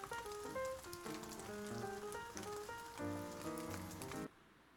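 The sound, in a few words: rain sound effect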